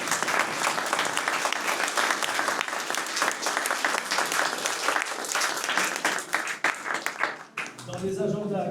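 Warm applause from a crowd at a municipal gathering, steady and fairly loud, tapering off near the end as a voice begins talking.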